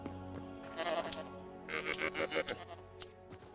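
Desert goat-like creature in the video game Hytale gives a few short bleats over a steady game music background.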